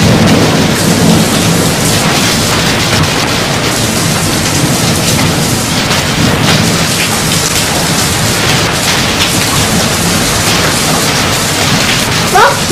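Heavy rain pours steadily throughout a tropical summer storm, with rumbling thunder rolling underneath in a loud, dense, continuous wash.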